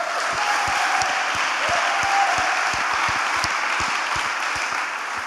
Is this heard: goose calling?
no